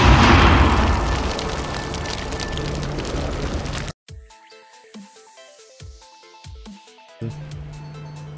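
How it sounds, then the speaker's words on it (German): A Samak truck in the military game Arma 3 blows up in a loud, broad roaring blast that rumbles for several seconds, then cuts off and gives way to a run of sharp, clattering impacts and bursts. "auf einmal explodiert mein Samak"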